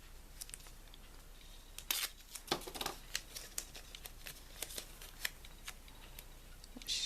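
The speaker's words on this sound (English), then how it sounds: "I'm going to attach my pages with washi tape." Washi tape is pulled and pressed to attach journal pages, giving faint crackling peels and small papery taps scattered over a quiet room hiss, with no voices.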